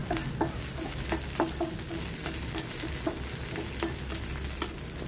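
Leeks and leftover ham fry in hot oil, a steady sizzle broken by repeated sharp scrapes and clicks of a spatula stirring the pan, close and alone with no voices.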